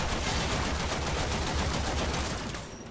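Rapid automatic gunfire in the shooter game Warframe, a dense continuous burst of shots that stays loud and then drops away abruptly near the end.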